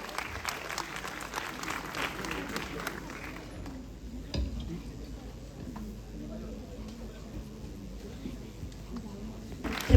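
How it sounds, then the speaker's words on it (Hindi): An audience claps for honoured artists at a ceremony, a moderate, steady patter of hands that thins toward the middle and continues faintly, with a voice talking over it. "सभी कलाकारों के लिए जोरदार तालियां हो जाएं।"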